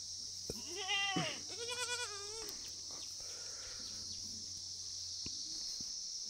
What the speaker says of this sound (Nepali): हाम्रो बाख्रा चाहिँ यस्तो तन्नै छ